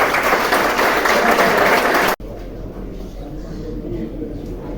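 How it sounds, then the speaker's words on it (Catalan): Applause from a school end-of-year concert audience for choir director Joan Redó, a dense wash of clapping that cuts off abruptly partway through, leaving a quieter room tone. "a qui donem un fort aplaudiment"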